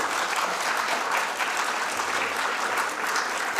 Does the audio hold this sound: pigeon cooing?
no